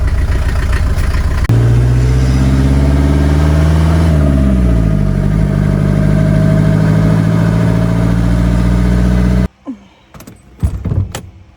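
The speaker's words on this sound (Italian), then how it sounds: "Regolato bene, a questo punto la pompa ha iniziato a funzionare correttamente." The diesel fuel pump engine of a self-built 4x4 camper truck runs loudly at a steady idle, its pitch shifting briefly, then cuts off, leaving a few faint clicks and knocks.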